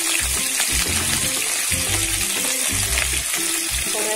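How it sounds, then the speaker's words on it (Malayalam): Okra sautéing in coconut oil with rock salt in a pan, a loud continuous close sizzle with repeated low clunking stirs and knocks of the spoon against the pan in an uneven rhythm, no talk. "ഇനി നമുക്ക് ആ വെണ്ടക്ക ഒന്ന് വഴച്ചെടുക്കാം."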